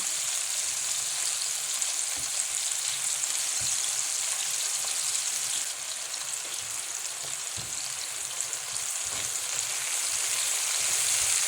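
Chopped onions and peppers sizzle steadily in an oiled pan, a constant close crackle with occasional soft taps.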